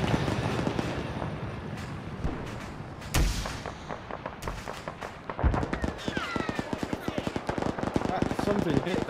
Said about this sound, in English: There was an explosion behind it, I know that much.